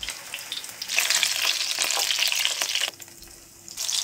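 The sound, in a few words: meat and chicken roulade slices frying in a pan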